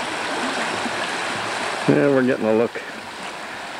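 Fast-moving stream water at a Missouri state park rushes steadily in the background, a broadband wash that runs under a man's brief spoken remarks.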